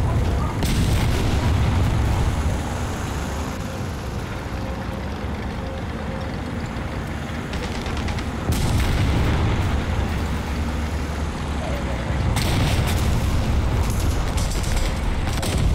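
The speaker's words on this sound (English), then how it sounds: "Wait, what are you shooting at?" Gunfire and cannon blasts from the War Thunder video game, steady rumbling booms and explosions in a dense, loud barrage over the whole stretch, without voices.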